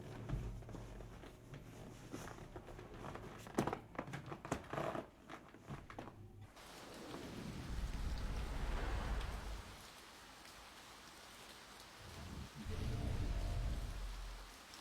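Rain falling in the video game To The Moon, a steady wash of rainfall that swells and recedes in waves, with a busier, more clattering stretch early on before settling into a softer, continuous patter.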